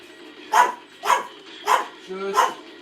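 Four sharp, evenly spaced dog barks ring out loud and close indoors, with a short voiced sound between the last two.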